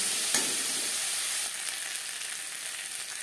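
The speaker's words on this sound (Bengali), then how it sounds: "আদা বাটা পেঁয়াজ ও রসুনের সাথে বেশ ভালো করে মিক্স করে দেব।" Ginger paste, onion and garlic frying in a pan while being stirred for egg curry, giving a steady close sizzle with a soft scrape near the start and the hiss easing slightly halfway through.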